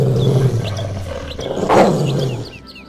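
A roar from attacking wolves in a retelling of Beauty and the Beast, with a low rumbling growl throughout and a sharp snarl in the middle, loud and alone with no talk.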